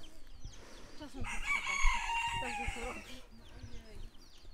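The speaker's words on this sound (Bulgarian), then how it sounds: "Това са истинските свободни кокошки и дефиницията за див петел." Free-range chickens clucking and a wild rooster crowing loudly nearby on the Azores islands, one long crow in the middle with clucks before and after and some faint talk.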